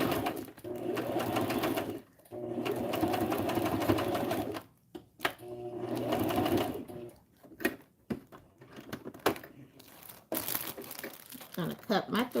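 Sewing machine back stitching thread on a Dollar Tree craft gift, running in steady bursts with short pauses between passes, close and fairly loud, with faint crinkling handling noise in the gaps.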